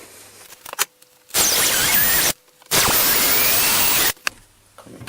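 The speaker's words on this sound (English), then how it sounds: "now with all these lines lined up, I'm going to start drilling" An electric drill bores holes in kitchen cabinet doors for handles in two sustained bursts of about a second each, loud and close, with short pauses and faint handling noises between.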